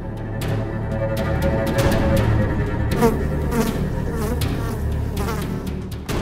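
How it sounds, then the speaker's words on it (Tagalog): Dense, steady buzzing of a swarm of houseflies inside a house near poultry farms, a continuous droning hum close by with shifting pitches swirling around. "umaapaw na ang fly trap sa sandamakmak na langaw."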